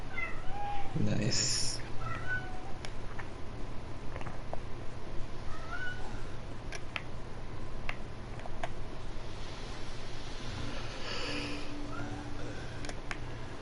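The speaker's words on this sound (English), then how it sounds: "Yep, we got some loud cats." Loud in-game cats in a Yakuza video game meow repeatedly over a constant hum of background game ambience, and a voice briefly speaks near the start.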